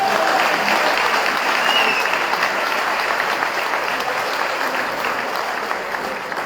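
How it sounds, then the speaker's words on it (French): A crowd at a community talk in Guadeloupe claps loudly and continuously, a dense, close, sustained burst of applause that holds strong, thinning only slightly toward the end. "je vous demande d'applaudir fortement"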